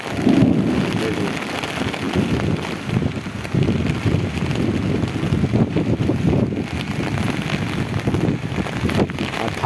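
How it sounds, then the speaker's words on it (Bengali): Strong gusting wind during a rainstorm, rushing and buffeting close by in uneven surges over a steady wash of rain, with no voices. "আর থাকা যাচ্ছে না, এত হাওয়া চলছে।"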